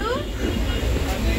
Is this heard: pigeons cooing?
no